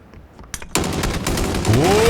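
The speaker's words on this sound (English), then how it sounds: "Here comes the nades." Burst of gunfire and grenade blasts in the PUBG battle royale game, with sharp shots early and a heavy sustained roar of fire and explosions from the midpoint onward.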